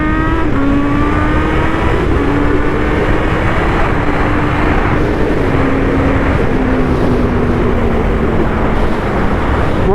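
A 200-horsepower, 230 kg sport motorcycle accelerates hard on small roads, its loud, close engine note climbing steadily and dipping briefly at each quickshifter upshift, with no talking.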